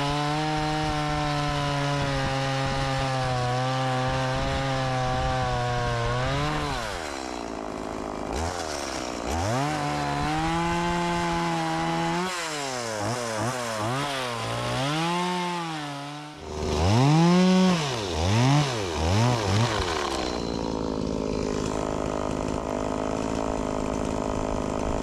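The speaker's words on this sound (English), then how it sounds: "I'm about to rip that chainsaw up." A chainsaw cuts into a tree that holds a bees' nest, running loud and close with a steady whine that dips and revs repeatedly as the chain bites, throttles down and picks up again.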